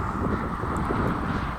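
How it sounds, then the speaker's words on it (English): Strong wind buffets the microphone during an outdoor bike ride on an overcast day near a highway, a steady low roaring rumble that stays loud and unbroken throughout. "And as you can tell, it's quite windy."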